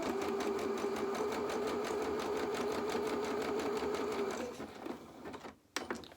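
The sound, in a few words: sewing machine neatening seams of doll pyjama bottoms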